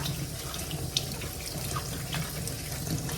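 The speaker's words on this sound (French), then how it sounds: "Bien rincer la cive parce qu'on va utiliser tout." Chives rinsed under a steadily running kitchen tap, a continuous close splashing water stream with no talking, heard while preparing salt cod fritters.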